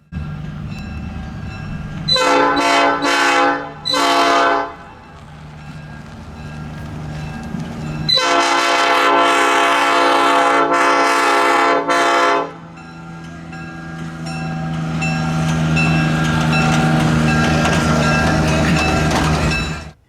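A diesel locomotive, one in CN colors, passes at a train day event, sounding its horn in several long loud blasts over a heavy rumbling engine and rolling wagons, with no talking.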